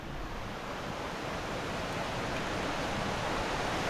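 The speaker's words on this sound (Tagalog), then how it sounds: "Yan po yung bukal oh." Water from a forest spring rushes in a close, continuous broadband wash that grows slightly louder toward the end, with no speech.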